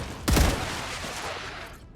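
A short burst of rapid gunfire in the video game StarRupture, loud and close, with a sharp onset and a decaying rumble trailing off over about a second and a half.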